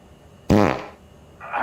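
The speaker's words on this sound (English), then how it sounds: "Good old fart joke." A comedic fart sound effect in a horror movie, one loud buzzy burst lasting about a third of a second, followed by a quieter rising sound near the end.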